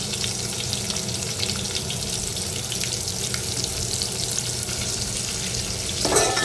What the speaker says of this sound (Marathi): कांदा आपल्याला व्यवस्थित परतून घ्यायचा आहे तेलामध्ये